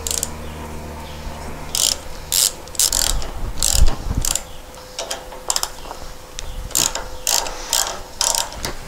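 A ratchet clicks in bursts while taking apart a dune buggy steering box, close and loud, with short fast runs of pawl ticks separated by pauses and faint metal handling between.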